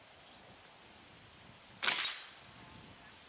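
An air rifle pellet strikes and flips a spoon at 20 meters, giving one short sharp crack near the middle of a quiet, faintly hissing outdoor background.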